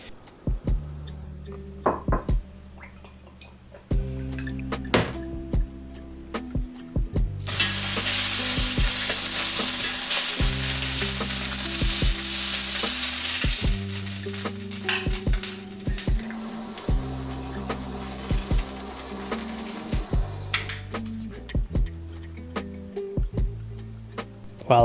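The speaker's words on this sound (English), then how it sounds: "I wanted to sear the striped bass skin" Scored striped bass fillet skin sears in a hot pan. A broad sizzle swells loudly through the middle and then fades, set against background music with plucked tonal notes.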